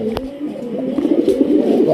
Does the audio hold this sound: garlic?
no